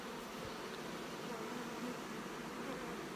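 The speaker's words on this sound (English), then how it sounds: "Just packed full of bees." Young honey bees crammed into a hive box set up as a queen cell builder hum in a steady, even drone, close but soft, with no voices.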